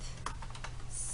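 Keys clack in a quick burst of typing on a computer keyboard as an SQL query is entered, the taps close and crisp over a steady low hum, with no voices.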